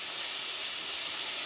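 Shrimp frying in oil in a skillet, a steady broadband sizzle and hiss that holds evenly throughout, with no talk over it.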